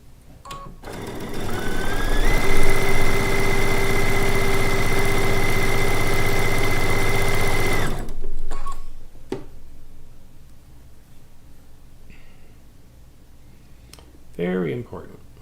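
Sewing machine stitching quilt fabric for a log cabin quilt top, running steadily with a whirring hum for about seven seconds before stopping, with a person talking quietly afterward.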